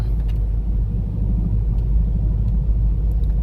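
Evening road traffic on Souphanouvong Road in Vientiane: a steady, close rumble of passing cars and engines, with no talk.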